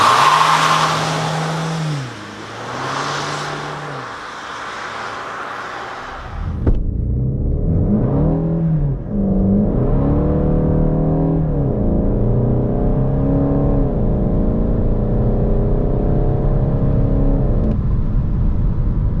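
A 200 hp Volkswagen Golf 8 GTD idles and rises in pitch, then accelerates hard from a standstill without launch control. Its engine drones loud and close, climbing through gears with brief dips at each shift.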